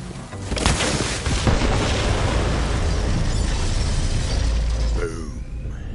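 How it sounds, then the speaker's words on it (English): A bomb detonates in Borderlands 3, a loud sustained boom with crackling debris and rumble that rolls on for several seconds before tapering off, set in a forest against devil riders' vehicles. "The explosion echoed through the forest"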